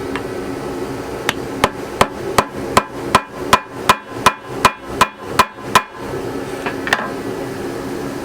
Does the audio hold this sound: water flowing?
no